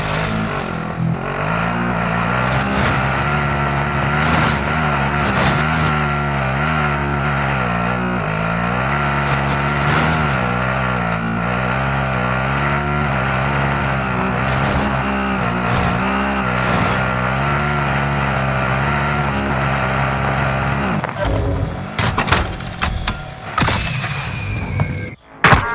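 Vehicle driving in Call of Duty: Modern Warfare, a steady loud engine drone with wavering pitch that holds for about twenty seconds, then breaks into bumps and sharp clatters near the end.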